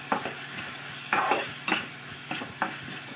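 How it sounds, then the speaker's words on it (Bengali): Paneer with spices being stirred in a pan with ghee and oil: several distinct scraping strokes of a spoon against the pan, spaced irregularly over a low sizzle, fairly quiet and close. "এবারে ভালো করে নাড়াচাড়া করবেন।"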